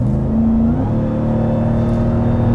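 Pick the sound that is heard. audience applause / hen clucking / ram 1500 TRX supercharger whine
ram 1500 TRX supercharger whine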